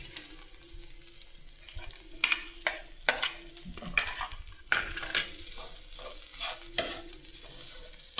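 Boiled potatoes fry in an oiled pan while a spoon stirs and scrapes repeatedly, sharp metallic clinks and scrapes over a soft, steady sizzle.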